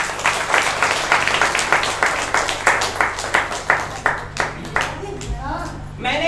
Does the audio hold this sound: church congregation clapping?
yes